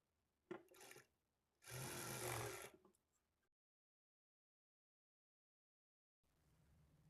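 A sewing machine stitches a blouse shoulder seam in two short runs, a brief burst and then a longer loud whirring stretch, followed by silence and a faint resumption at the end.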